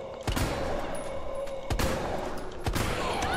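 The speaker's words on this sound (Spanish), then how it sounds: "Hemos fallado cuántos, cuántos tiros de Magnum, gente" Three loud, sharp Magnum revolver shots in Resident Evil 3 Remake, spaced about a second or more apart over a constant background hum.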